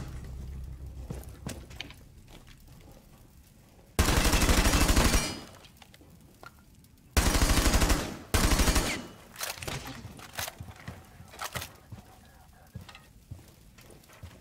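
Loud bursts of automatic gunfire from the video game Rainbow Six Siege: a long burst, then two more close together, each dense and sustained, standing out against quieter background game noise.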